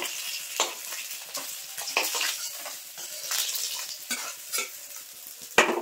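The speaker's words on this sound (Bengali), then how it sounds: "এই মাছগুলো কিন্তু আমি লাল লাল করে ভেজে নিয়েছি, এবার তুলে নেব।" Rohu fish frying in oil with potatoes and pointed gourd nearby, a light sizzle broken by repeated stirring and scraping strokes and one sharp clack near the end, fairly quiet overall.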